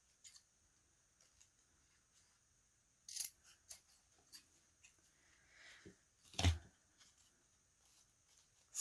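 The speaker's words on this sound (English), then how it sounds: "I'll try some different scissors, see if I have a little better luck with these." A few sharp metallic snips of scissors cutting foam core in a quiet room, scattered and separate, with one louder clipping snap near the end.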